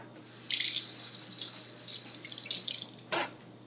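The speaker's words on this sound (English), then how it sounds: "All right, washing my hands again." A kitchen tap running while hands are washed, a steady close splash of water lasting a few seconds, then a brief final gush before it stops.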